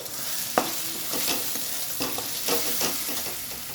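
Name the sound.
poppy seed and black mustard paste added to a frying pan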